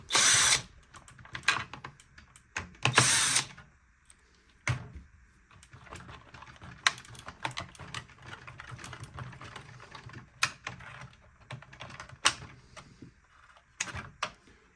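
Small power screwdriver bursts and plastic clicks while the exhaust filter and turbine are removed from a Dreame robot vacuum under repair for a filter error; short loud whirring bursts early on, then scattered sharp clicks and handling noises, close up and with no talking.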